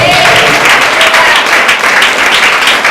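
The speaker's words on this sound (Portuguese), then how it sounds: "As palmas, mais uma vez" A church congregation at a Pentecostal service claps together, a dense steady wash of hand claps filling the whole stretch at fairly loud level, with no voice standing out above it.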